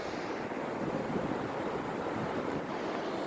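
A seashell held up to a phone microphone gives a steady, broad ocean-like rush, continuous and even throughout, close and fairly loud, with no voices.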